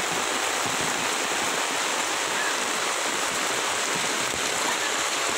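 Floodwater surges along a flooded city road on Guerilla Road, Quezon City, a steady, loud, broadband rush that continues unbroken with no voices over it.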